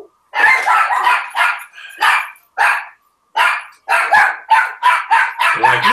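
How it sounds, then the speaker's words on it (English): A dog barks loudly and close by in a rapid series of about a dozen sharp, separate barks, with short pauses and a slight growl at the very end. "Hey, the dog's going crazy"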